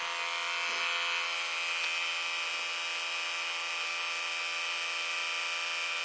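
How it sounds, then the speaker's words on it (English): An electric makeup brush spinner whirs at high speed, spinning a brush in a steady, even buzz that holds without pause from start to finish. "it spins the brush around, and you dab it in to work it through the brushes a few times"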